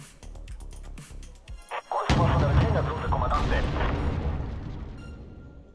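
A tank firing in the Wargame Red Dragon strategy game: a heavy boom lands about two seconds in and rolls into a long, loud rumbling decay, with earlier sharper shots and bursts before it.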